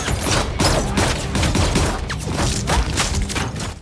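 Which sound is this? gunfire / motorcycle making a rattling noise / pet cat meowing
gunfire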